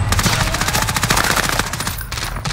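Rapid automatic gunfire in a video game, a loud, dense stream of shots rattling continuously for a couple of seconds with no talk over it.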